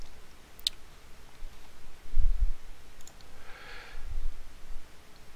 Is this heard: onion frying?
no